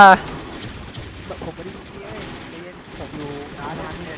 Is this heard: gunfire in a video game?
yes